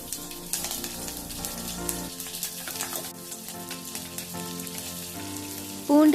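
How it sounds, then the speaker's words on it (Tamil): Garlic, green chili and curry leaves hiss and crackle as they fry in hot oil after mustard seeds pop, a steady dense sizzle with small spits throughout and a louder burst near the end. "கடுகு வெடித்து வந்ததும் அதில் நம்ம எடுத்து வச்சிருக்க பூண்டு, பச்சை மிளகாய், கறிவேப்பிலை 3ஐயும் சேர்த்துடலாம்"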